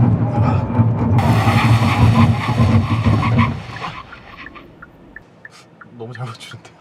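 A car braking hard from high speed during an unintended-acceleration test on an open road, a loud, broad roar of engine and tire skid for about three and a half seconds, then dropping to a quieter rumble with brief squeaks.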